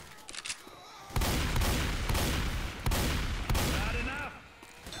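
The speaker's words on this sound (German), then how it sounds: "Dir ist klar, dass du auf mich schießt, ja?" Gunfire in the video game Left 4 Dead 2 comes as dense, loud sustained bursts. It opens after a quiet start and breaks off briefly between volleys, with voices talking underneath.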